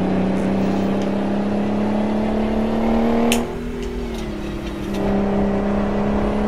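Steady truck engine drone in American Truck Simulator, a constant low hum that briefly dips and softens midway, then swells back to a full, even roar with no talking.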